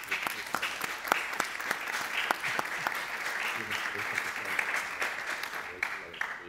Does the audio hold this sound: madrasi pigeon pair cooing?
no